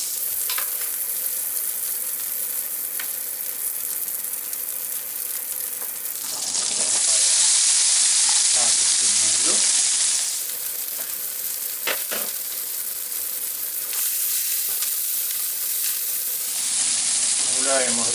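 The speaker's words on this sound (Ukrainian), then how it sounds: "Після жарення стейка сковородку не миємо, добавляємо масло." Oil sizzles in a frying pan left unwashed after searing steak, a close, steady frying hiss that swells into loud bursts of spitting as ingredients hit the hot fat, with no talking.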